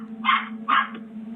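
Dog barking twice in quick succession over a steady low hum, fairly close and clear.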